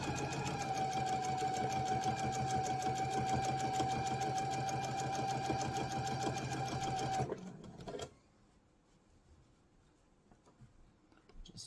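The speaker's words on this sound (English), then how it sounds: "I'm sewing just below that line, or just below that fold rather" Sewing machine stitching a zipper into fabric for a bag, running steadily and loud at close range for about seven seconds, then stopping abruptly, leaving near silence.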